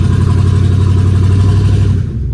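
A lifted truck on 26-inch tires climbs in four-wheel drive with its engine droning loud and close, a steady deep rumble under load that eases slightly near the end, with no voices.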